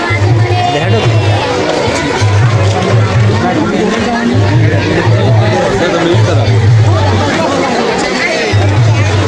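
A dense crowd of pilgrims at a temple in Rajkot fills the air with loud, continuous babble and chatter, while a low rhythmic drumming or engine pulse repeats underneath.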